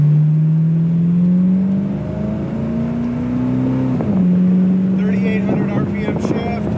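A 1978 Pontiac Firebird engine revs up through manual gears in a rising drone, drops briefly at a gear change, then climbs again, loud and close with wind noise.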